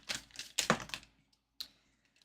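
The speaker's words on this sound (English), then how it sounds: "the first card we're going to shuffle is to represent the overall message" Tarot cards being shuffled by hand, a quick cluster of crisp riffling snaps and clicks followed by a pause and a few isolated taps, close and fairly soft.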